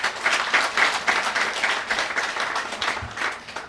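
Enthusiastic applause for Minister Edward Regis at a handover ceremony for new homes in Geneva, Grand Bay; dense, sustained crowd clapping, fairly loud and even.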